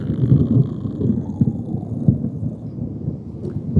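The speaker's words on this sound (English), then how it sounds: "you hear that lightning? Woo, it's still rumbling" Low thunder rumbling during a storm, a steady dull roll with a few soft thumps and some wind-like noise, no speech.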